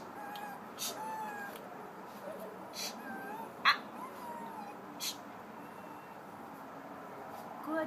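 A dog gives soft, high whimpers and short whines during barking correction, faint and intermittent over quiet background hiss, with one sharper yelp midway.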